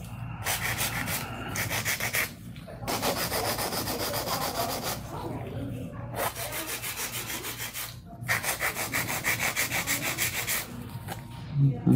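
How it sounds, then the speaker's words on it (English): A hand nail file rubbing back and forth over long C-curve acrylic nail tips, close and steady, in repeated strokes broken by short pauses. "you can actually still do the same amount of work with a hand filer"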